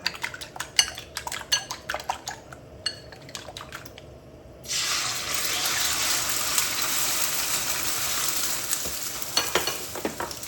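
Metal utensil clatters and scrapes against a wok in quick irregular knocks, then a loud steady sizzle rises as seafood egg fried rice with frozen vegetables is stir-fried, with continued stirring clinks over the hiss.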